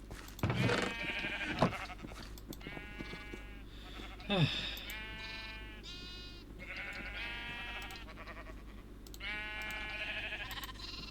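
Sheep in the Minecraft video game bleat in a series of wavering calls, several overlapping, fairly clear and near. A couple of sharper thuds and squeaks break in early on.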